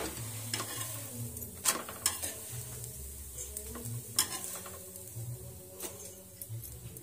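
Green moong dosa roasting on a hot pan gives a soft steady sizzle with scattered light scraping and ticks of a spatula, quiet and close, with no talking.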